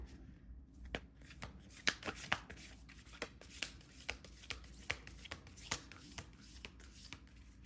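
A large deck of tarot cards being shuffled by hand, with rapid riffling and a series of sharp, evenly spaced slaps, close and fairly loud.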